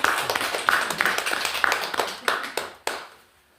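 Hands clap in a quick, uneven burst of sharp slaps that tails off into quiet, with faint background noise beneath.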